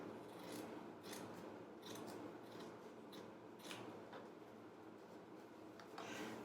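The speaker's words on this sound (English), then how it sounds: "So now when I'm cutting it out," Large scissors cut through fabric while shapes are cut out for ugly sweaters, giving a run of quiet, close snips and slides over a steady low background hum.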